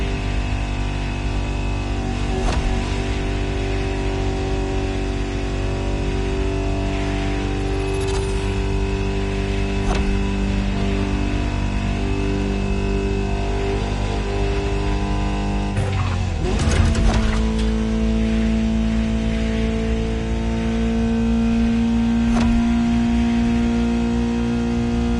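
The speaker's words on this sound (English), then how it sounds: "Just listen to the car you're driving." A Ferrari supercar engine in the racing video game The Crew Motorfest drones steadily and loudly for the whole stretch, with a sharp surge and shift in pitch midway, as if shifting or revving, and no talking.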